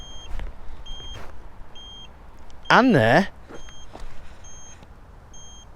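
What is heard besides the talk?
electric scooter turn indicator beeping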